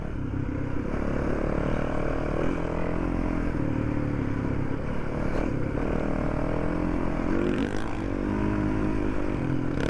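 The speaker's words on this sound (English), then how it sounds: "at the moment it's really easy riding. We're doing about 50, 60 Ks comfortably." A Yamaha WR450F dirt bike cruising along Fraser Island sand tracks at about 50 to 60 km/h gives a steady, unbroken engine drone mixed with wind rush, loud and continuous throughout.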